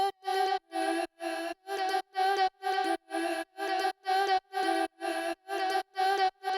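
Chopped vocal snippets triggered from a keyboard as a MIDI groove play in a steady rhythm of about fourteen short, evenly spaced bursts, clear and up front with no other sound between them.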